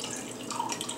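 Liquid drained from a can of mushrooms trickles and drips steadily into a container, a soft, close, continuous splashing with no voices over it.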